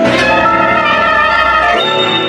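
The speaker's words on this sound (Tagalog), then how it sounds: "Pinatunog ng daga ang isang maliit na kampanilya ng tatlong beses." A small hand bell rings out loudly with a sustained metallic tone, its strikes blending into one bright continuous ring.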